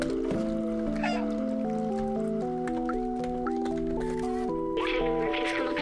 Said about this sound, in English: There's the meow button.